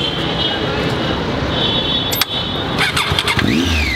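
A motorbike on an Indian road starts up with a brief crank and sputter, then ticks into a rough idle close by, with faint traffic noise and a steady whine in the background.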